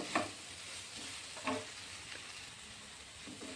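Pasta is stirred and mixed in a pan at home, a faint soft sizzle under a few quiet scraping strokes of a spoon.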